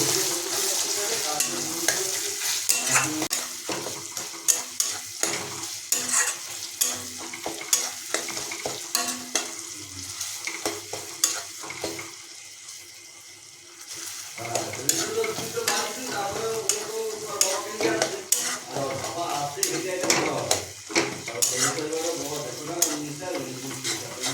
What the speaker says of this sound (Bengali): এভাবে আমরা এটাকে এটাকে মিনিট দুয়েক ধরে কষাতে থাকবো